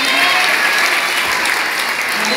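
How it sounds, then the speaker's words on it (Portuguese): Light, steady applause from a church congregation welcoming a dance group, a dense even patter of many hands close by with a faint murmur of voices. "vamos receber o grupo Maranata com as palmas bem leves para Jesus"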